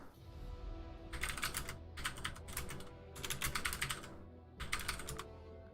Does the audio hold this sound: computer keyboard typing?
yes